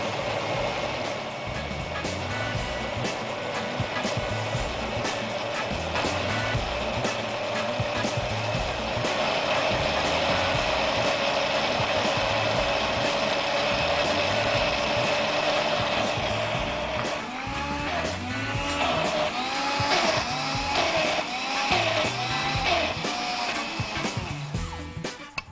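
An electric blender runs loud and steady, whirring continuously while blending corn oil, with a brief change in pitch near the end and no talk over it.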